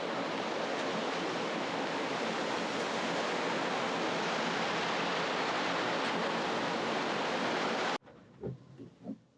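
Plentiful water surging under a bridge near Pune in the monsoon, a dense steady roar holding for about eight seconds before cutting off abruptly to quieter ambience with a few brief low thumps.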